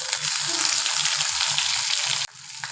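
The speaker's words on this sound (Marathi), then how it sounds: "छान असं लालसर होईपर्यंत भाजायचं आहे." Tomatoes and curry leaves frying in a pan for a Marathi vegetable dish, a close, steady sizzle with some stirring that cuts off abruptly near the end and then resumes more softly.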